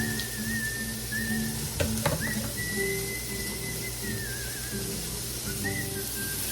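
Pork chops searing softly in a hot pan give a steady, close frying sizzle throughout, with a faint whistling tone running along above it and a couple of brief clicks near the middle.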